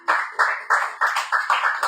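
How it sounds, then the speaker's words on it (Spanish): A church congregation claps in unison, with steady rhythmic bursts of about three claps per second, fairly close and with no voices over it. "¿Quién le da un aplauso al Señor,"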